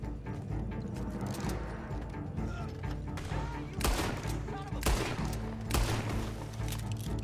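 Gunfire in the online western game Red Dead Online, fought with starter weapons only: several sharp shots crack over a busy backdrop of game music and effects, spaced irregularly, some sounding close.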